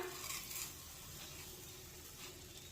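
Semolina sheera being stirred with sugar in a pan, giving a steady soft sizzle with continuous scraping and stirring close by, with no talking.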